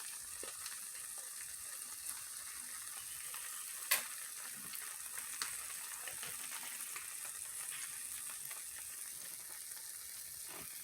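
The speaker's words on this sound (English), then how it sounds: "So, add some steak to it." Steak frying in a pan for a steak and cheese omelet, a constant faint crackling sizzle with scattered pops and one sharp tick, steady throughout with no talk.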